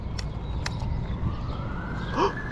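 A faint siren wails in the distance, rising slowly beneath a steady background hum of traffic.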